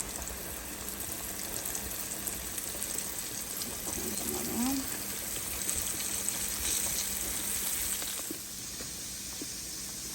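Chicken pieces sizzling and bubbling in hot frying oil, a steady crackling hiss that drops a little near the end.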